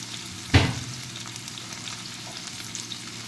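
Vegetables frying in a pan on low heat while cooking a traditional devotional food offering, with a sharp burst of sizzling as they are stirred, then a steady soft crackle that continues alone.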